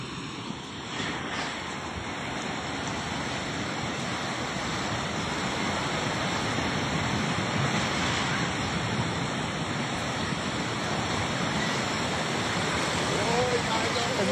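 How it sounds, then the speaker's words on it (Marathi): Floodwater rushes through a market in the Nuwakot area of Nepal, a dense, continuous roar of churning water that stays steady and loud throughout with no clear voices. "नुवाकोट भागातील बाजारपेठेत पुराचं पाणी शिरलं होतं"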